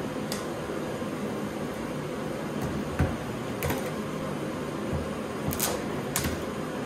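A stud welder fixes studs onto the car body of a Monte Carlo movie car under restoration, giving a few short, sharp cracks spaced a second or two apart over a steady background hum.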